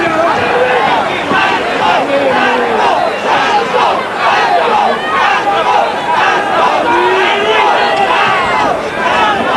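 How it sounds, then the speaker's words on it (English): Boxing arena crowd at a 1985 IBF junior middleweight title fight chanting loudly and steadily, a dense wall of many voices rising and falling throughout. "And now the crowd is chanting for Acaries"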